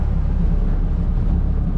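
A 2004 Sea Ray 180 BR boat engine idles at about 1,000 rpm, giving off a steady, close, low rumbling drone with no breaks.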